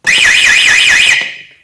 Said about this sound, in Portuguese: No momento em que eu clicar no alarme manual, ele vai acionar a sirene e a saída do buzzer também